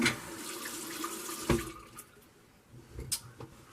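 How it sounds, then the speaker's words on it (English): Water runs from a bathroom tap as someone rinses off after a shave, a soft close splashing stream that fades after a couple of seconds, leaving faint handling clicks and small splashes. "I'm gonna rinse off and clean up and stuff"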